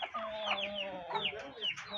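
Laying hens on a poultry farm clucking in a steady, busy chorus, several overlapping calls rising and falling close by with no talk over them.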